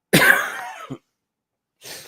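A single harsh cough bursts out up close, fades with a short catch, then after a pause a faint breathy exhale follows.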